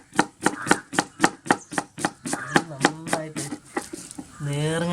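Onions chopped with a knife on a board, a brisk regular series of sharp close knocks, about a dozen in quick rhythm, followed by a person talking at the end.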